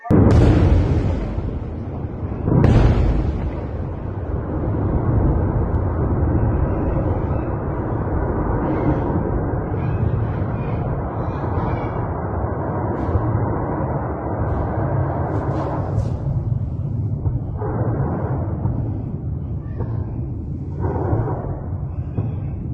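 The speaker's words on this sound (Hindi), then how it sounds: "ये आतिशबाजी नहीं बल्कि एयर स्ट्राइक है दोस्तों, जो लेबनान में की गई है" Airstrike explosions in southern Lebanon: a sharp, loud blast opens, then a sustained heavy rumbling roar carries on with scattered distant booms and crackle, no voices.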